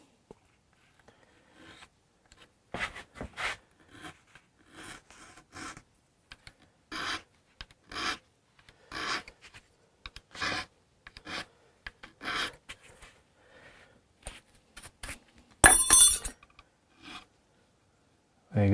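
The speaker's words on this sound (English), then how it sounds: "There goes the scraper." Repeated rasping strokes of a scraper on a Hofner Galaxie guitar body during restoration, bursts of scraping in uneven rhythm, close and moderately loud, with a sharper louder burst near the end.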